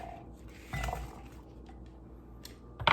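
Pesto-coated roasted potatoes are tipped into a serving bowl with a soft dull clunk of dishware and a faint clink at the end, quiet and close.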